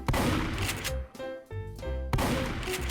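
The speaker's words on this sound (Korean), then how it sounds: "샷건" Shotgun blasts from a 3D guns addon in Minecraft PE, a few sharp shots at the start and end with a quieter tonal stretch between, loud and close.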